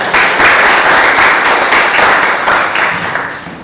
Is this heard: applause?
yes